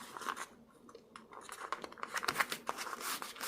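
Scissors cut a folded piece of glow leather yarn in half along the fold, giving faint, close snipping and scratchy crinkling sounds in a quick, irregular series.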